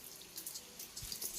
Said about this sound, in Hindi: अब इनको पानी से स्नान कराएंगे सभी को